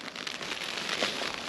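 Rain falls at night on a budget Sylaeto hooped bivvy during solo wild camping in the UK, a steady, soft crackling patter of drops hitting the fabric close by, continuous and fairly quiet.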